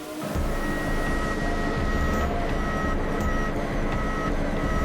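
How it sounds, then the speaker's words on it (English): A self-propelled modular transporter, a huge multi-axle flatbed with rows of independently steerable wheels, hauls aircraft carrier hull modules with a continuous heavy engine drone and a steady reversing-beep tone, loud and unbroken throughout. "these modules are carried on self-propelled modular transporters"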